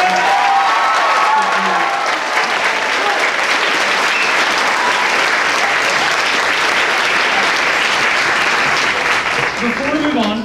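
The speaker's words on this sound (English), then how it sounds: "I want to give them one more round of applause because they like to." Sustained audience applause fills a high school spring band concert, loud and steady from start to finish, with a few voices faintly mixed in.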